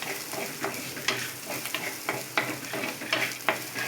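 Green chilies sizzle and spatter in hot oil in a pan while being stirred for a broccoli and peas curry, a steady close frying hiss broken by regular scraping strokes.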